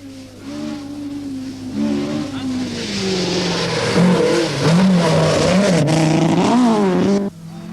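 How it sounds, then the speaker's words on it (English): A new-style Toyota Celica rally car on the 1982 Circuit of Ireland, its engine loud and near, revving and climbing through the gears with tonal whine and rising pitch sweeps, a commentator's voice mixed in. "Next, Per Eklund in the new style Toyota Celica."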